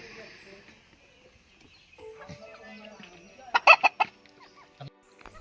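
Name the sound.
chickens on a small poultry farm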